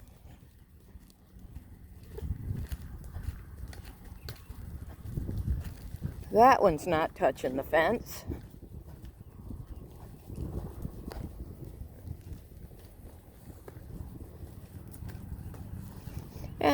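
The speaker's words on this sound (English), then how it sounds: "And there's my other horse, Philly. She's a quarter horse." A quarter horse mare moves about a farm pasture by an electric fence, with soft hoof steps and movement under steady wind noise while a person talks nearby.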